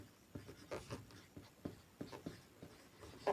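The word principal being written on a board during an accounting lecture: a quick series of short, scratchy strokes in an irregular rhythm, close and quiet, with no talking.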